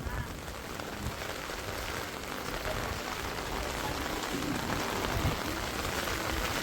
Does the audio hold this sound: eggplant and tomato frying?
no